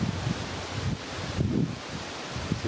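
Steady wind blows and buffets across the microphone beside a river while carp fishing, with gusty low rumbles and a faint rustle throughout.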